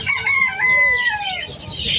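A Cornish chicken crows loudly and close, a drawn-out cock-a-doodle-doo with a falling tail, followed by brief clucking, heard on its own at a poultry and bird sale.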